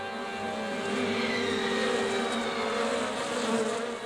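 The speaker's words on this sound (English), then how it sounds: "The bees will spend the entire month pollinating millions of almond trees." Honeybees working through blooming almond trees in a California orchard give off a steady, dense drone of buzzing wings. It holds at an even level throughout, with no voices.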